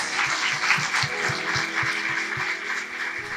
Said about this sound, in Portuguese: Convido você a aplaudir a palavra de Deus